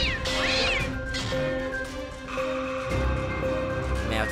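Cat meows amid a busy, noisy indoor scene with clattering and background commotion, the calls rising and falling over a few seconds at close range.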